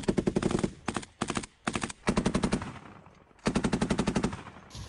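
Several loud bursts of rapid automatic gunfire, each a quick string of sharp cracks, separated by brief pauses.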